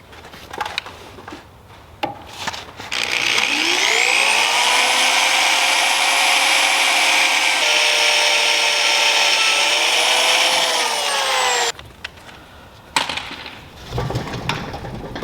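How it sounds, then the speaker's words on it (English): A power drill bores a new hole in the PTO shaft of an Alamo SHD 88 flail mower, a loud, steady rising whine held for about nine seconds, with scattered clicks and handling noise before and after. "We're gonna drill a hole over here,"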